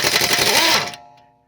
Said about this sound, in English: we're gonna use the star bit with the impact gun